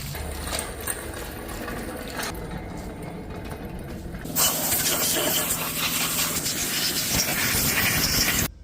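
A pressure washer sprays down a cracked small-block Chevy engine block, a loud broadband hiss that grows harsher and steadier partway through and continues close up until it cuts off.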